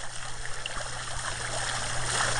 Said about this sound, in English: Here's my fountain I made.